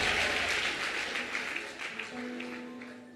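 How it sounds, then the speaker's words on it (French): A church congregation claps for the Lord during a bilingual English-French service, a dense, loud burst of applause that fades slightly over a few seconds, with a voice faintly heard beneath. "Give the Lord a big hand."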